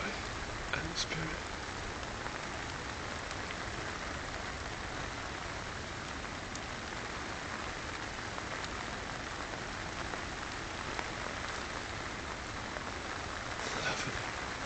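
Steady rain falls in Ireland, a constant soft hiss of drops on surfaces that fills the whole stretch evenly, low and unbroken with no voices over it.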